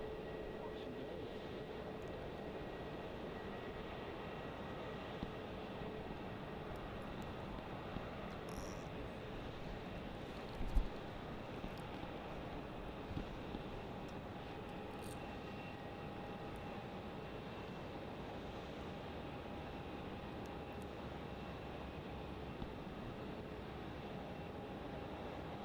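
A Jetstar airliner at Melbourne Airport at night gives off a steady, distant, moderate engine rumble and whine that holds evenly throughout, with a few faint clicks over it.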